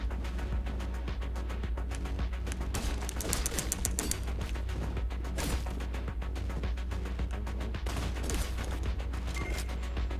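Rapid gunfire bursts and sharp impact cracks in the action video game Katana Zero, dense and continuous over a busy game soundtrack, with repeated clusters of shots and crashes.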